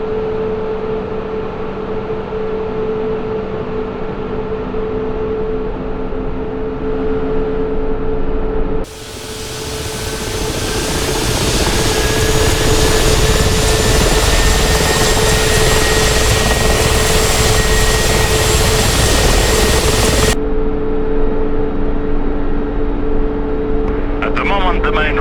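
A Mi-24 Hind helicopter in a flight simulator goes through engine startup: a steady turbine whine and hum, then a loud broadband roar that builds and holds for several seconds before cutting back to a quieter idle tone.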